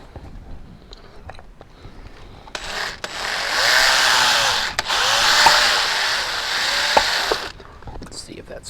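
A power drill bores out a plumbing pipe fitting on a workbench, a loud whining grind lasting several seconds with brief pauses, set against a quiet room with faint background noise before and after.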